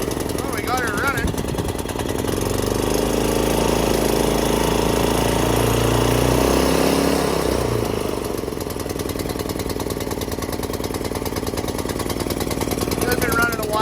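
An 11hp go-kart engine with its governor removed runs close by, a rough, loud, steady idle that rises briefly in the middle and then settles back, with someone talking over it.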